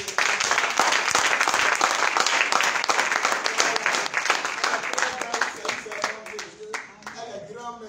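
Church congregation bursting into loud, dense applause and cheering that carries on steadily, then thins into scattered claps and voices near the end.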